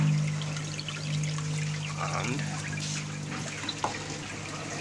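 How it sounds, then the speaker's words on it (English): Water flows into an aquaponics tank holding young catfish, a soft steady trickle and pour that stays fairly quiet and continuous, with a faint hum under it and one brief word spoken. "You can see the flow of the water."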